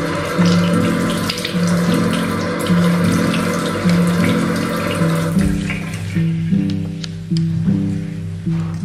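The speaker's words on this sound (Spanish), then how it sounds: "Normalmente, lavarme mi cara solamente con agua" Tap water runs steadily into a bathroom sink while someone washes their face, a continuous close rushing splash with tonal background music beneath it that shifts partway through.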